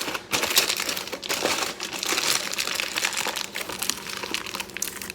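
Aluminum foil crinkles and crackles up close while being wrapped around small Roma tomatoes for fire roasting, a loud, continuous rustle with sharp crisp bursts throughout.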